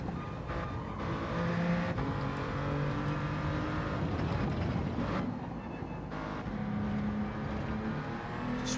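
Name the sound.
race car engine shifting up in video game Gran Turismo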